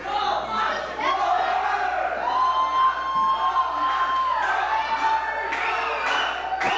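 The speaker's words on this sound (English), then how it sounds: "The crowd hot tonight." A live wrestling show crowd cheers and shouts in a loud, sustained roar, with whoops and rising swells of excitement carrying throughout the arena.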